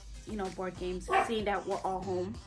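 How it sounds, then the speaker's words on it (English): A dog barks in a quick series of repeated yips and bow-wows, close and loud, running under a person talking at home. "Excuse the dog."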